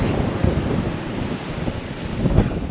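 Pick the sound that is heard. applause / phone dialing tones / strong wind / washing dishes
strong wind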